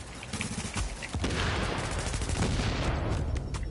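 Dense, continuous gunfire with heavy shotgun blasts fills a firefight in The Division on PS4 Pro, loud and nonstop as rapid shots overlap throughout.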